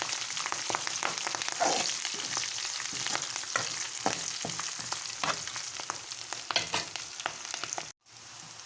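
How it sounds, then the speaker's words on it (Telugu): Curry leaves sizzle and crackle in hot oil in a pan while being stirred for a Telugu-style karela fry, with steady frying hiss, scattered spatters and spoon scrapes, then a brief drop near the end. "ఇప్పుడు కరివేపాకు వేసుకుందాం. ఒకసారి మొత్తం కలుపుకోవాలి."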